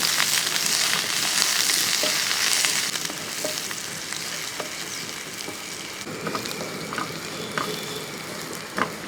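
Sliced shallots, green chillies and curry leaves sizzle in hot oil with a constant close crackle. A spatula stirs them now and then, the scraping coming in short bursts, and no one speaks.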